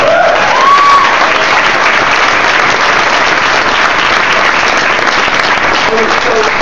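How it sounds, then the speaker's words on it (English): A roomful of about 200 people applauds 30 colleagues who qualified for a BMW, a loud, dense, steady wash of clapping from start to finish, with a brief cheer or whistle near the beginning. "Give these 30 people a big round of applause."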